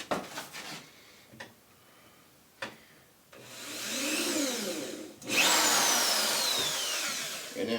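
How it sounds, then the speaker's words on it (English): A few handling clicks and taps, then a power drill whirs up twice in sustained bursts, its motor pitch rising as it bores pilot holes through the side of a wooden mailbox and its door. "Just drill you a pilot hole on each side through the side of your mailbox"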